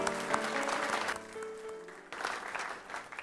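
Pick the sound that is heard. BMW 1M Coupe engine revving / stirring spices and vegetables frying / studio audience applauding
studio audience applauding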